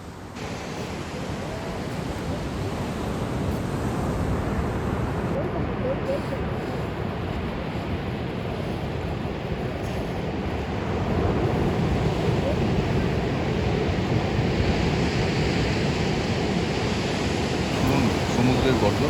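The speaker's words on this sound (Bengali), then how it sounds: "সমুদ্রের গর্জন আর অসাধারণ এই দৃশ্য" Surf pounds steadily on the beach at Puri, a continuous broad roar of breaking ocean waves with wind rushing across the microphone, loud and unbroken throughout, swelling slightly louder in the second half.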